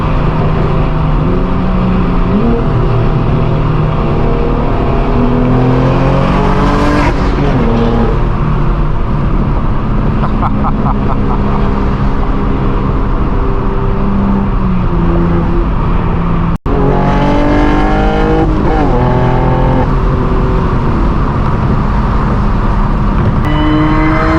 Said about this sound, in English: Looks like the V6 F-Type's got an exhaust on it.